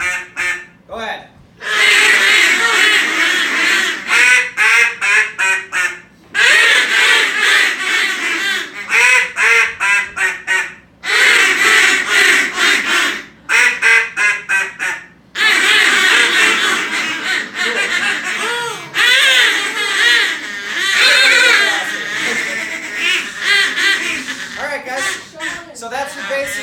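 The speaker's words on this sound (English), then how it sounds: "So that's your basic greeting call." A hand-blown duck call runs through the basic greeting call at a youth duck-calling seminar: loud, raspy quacks in several quick descending runs, separated by short pauses.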